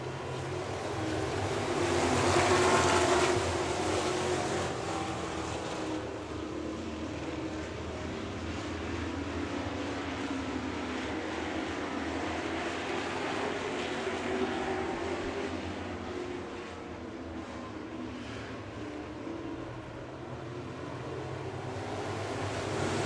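Dirt track race cars roar around turn two at Victory Lane Speedway in Manitoba, a steady loud engine drone with a swell near the start, wind buffeting the microphone throughout.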